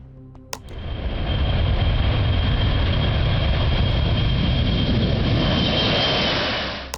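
A heavy airplane takes off and climbs, its engines rising into a loud, sustained roar that stays close and steady before easing slightly at the end.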